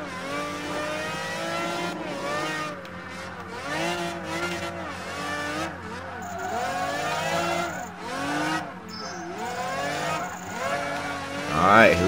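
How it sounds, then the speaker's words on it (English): A race car engine in Project Gotham Racing 3 revs and shifts repeatedly, rising and falling in pitch through gear changes, loud and steady with tire squeal toward the end. "Listen to that engine."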